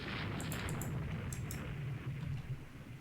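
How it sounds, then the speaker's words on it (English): Torpedo hit explosion in the naval strategy game Rule the Waves 2, a muffled, low rumbling blast with a few brief sharp crackles on top, fairly faint and sustained. "she got hit by a torpedo"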